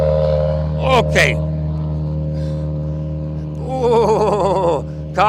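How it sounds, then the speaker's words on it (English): Rally cars arrive at a WRC Rally Sweden 2023 stage, their engines revving in rising and falling bursts over a constant low mechanical hum, while a person talks nearby. "Oh, cars coming in."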